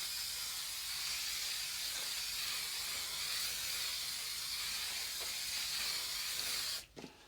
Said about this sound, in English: so I'm only using normal hairspray